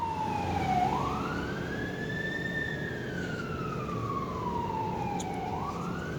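A wailing siren slowly rises and falls in pitch over a low rumbling background, steady and moderately loud with no voices.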